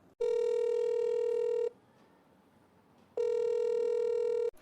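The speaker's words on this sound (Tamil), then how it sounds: "ஓகே, ஃபோன் பண்ணி பாப்போம்." A phone call being placed, with two long, steady electronic ringing tones separated by a short quiet gap, clear and loud with no one speaking.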